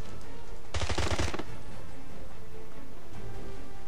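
Gunfire in the 007: Blood Stone game, a loud rapid burst of automatic shots lasting about half a second, followed by quieter game ambience and a faint second patter.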